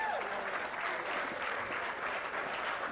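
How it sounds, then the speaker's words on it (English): An audience at a charity golf event's evening gathering claps in sustained, dense applause, steady and moderately loud, with faint murmuring underneath. "I just want to give a big round of applause to Serena and Dick for tonight."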